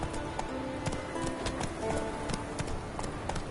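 Roach, the horse in The Witcher 3: Wild Hunt, gallops with quick, steady hoofbeats that repeat in a continuous driving rhythm at close range.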